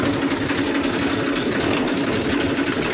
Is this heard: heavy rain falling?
no